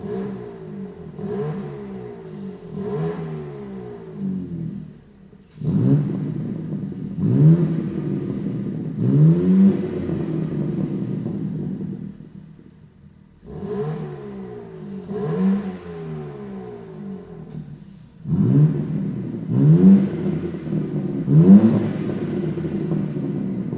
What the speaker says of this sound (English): now we'll also introduce a equal length single for this car. Let's get started, install the exhaust and see how it sounds like.